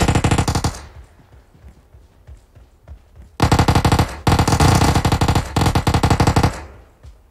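Loud, close automatic gunfire in a PUBG fight around Rozhok comes as rapid bursts: one burst, a pause with faint distant shots, then several long sustained volleys back to back.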